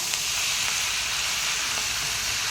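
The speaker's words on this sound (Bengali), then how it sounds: "এরপর এটাকে একটু ভালোভাবে ভেজে ভেজে নেবো ক্যাপসিকামগুলোকে" Capsicum sizzles and fries steadily in a pan with onion, ginger and garlic for homemade chili chicken, a close, even hiss with faint stirring scrapes and no talking.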